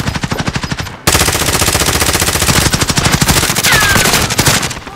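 Rapid automatic gunfire in the Call of Duty: Modern Warfare video game, loud continuous bursts of shots with a brief gap after the first second, close and dominant.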